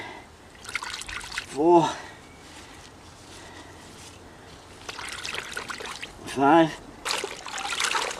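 Water splashing and trickling in a bucket as snails are rinsed clean, with a couple of brief bursts of sloshing among dribbling sounds, and a man counting aloud over it.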